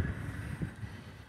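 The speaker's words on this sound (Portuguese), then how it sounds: "Hoje está ventando" Wind gusts buffet the microphone on a city street at night in Campos dos Goytacazes, a low rumbling roar with irregular thumps throughout, close and fairly loud with no talking.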